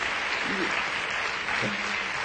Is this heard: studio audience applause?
yes